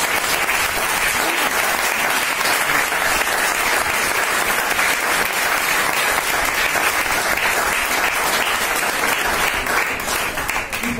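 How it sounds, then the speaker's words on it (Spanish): A long, loud round of audience applause closing a book talk on healthy living, dense continuous clapping from the whole room holding steady for about eleven seconds with no voices on top. "Un aplauso para JM."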